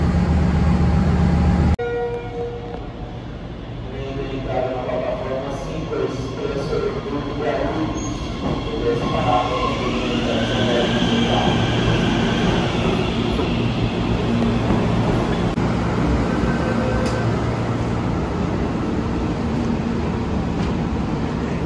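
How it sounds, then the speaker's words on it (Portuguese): Inside a new express train running to Guarulhos airport near São Paulo: a sharp onset into a continuous low rumble of wheels and motors, with squeals and a brief horn-like tone rising over the steady ride noise. "E esse é o trem por dentro, muito novinho."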